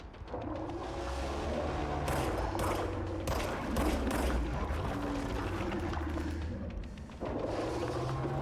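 Rapid gunfire in the video game Control, with dense bursts of shots and thuds piling over a rumbling backdrop, loud and close throughout.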